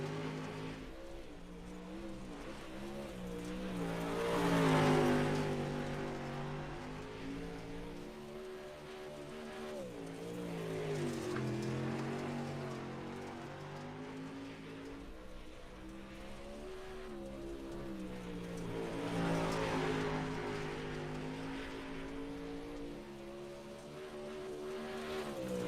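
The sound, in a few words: race car engine from a sim racing video game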